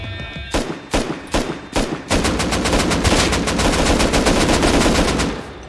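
Gunfire in the game Rust: a few separate loud shots, then a rapid sustained burst of automatic fire, close and harsh, with no talking.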